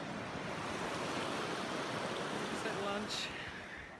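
The Markha River rushes steadily in a continuous, loud broadband roar heard up close on a mountain trek. The flow stays even throughout, and a faint voice surfaces briefly near the end.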